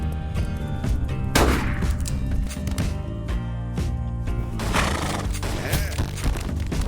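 Horse whinnies mixed with bursts of gunfire in a modded video game, set against a dense, continuous bed of game music and effects that stays loud throughout.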